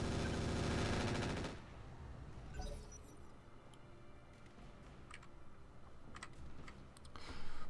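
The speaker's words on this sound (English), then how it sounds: "Fire the machine guns." Machine guns fire in the BattleTech Roguetech video game: a dense rattling burst for about a second and a half, then scattered fainter impacts and clicks.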